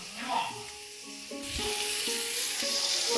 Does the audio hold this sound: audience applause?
no